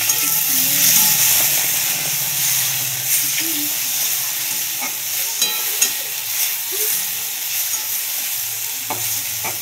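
Chopped tomato added to browned onions in a hot pan, a continuous loud sizzle and hiss with stirring scrapes throughout.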